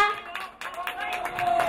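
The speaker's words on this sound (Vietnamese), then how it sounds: "cho một tràng pháo tay thật lớn đi không ạ" Wedding guests clap for the bride and groom as they kiss on stage, a brief, close burst of applause that builds quickly, with voices mixed in.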